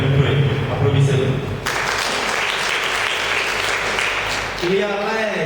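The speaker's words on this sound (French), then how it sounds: "Applaudissez-le." Audience applause at a school excellence awards day in Sokone, Senegal, a dense burst of clapping rising sharply after a voice on a PA and continuing steadily, with speech heard over it at the start and end.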